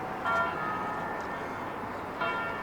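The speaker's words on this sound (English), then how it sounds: "It's Sunday, so the church bells are going off." Church bells ring out over Turin on a Sunday, distant tolls sounding through outdoor city ambience with a brighter strike near the start and another near the end.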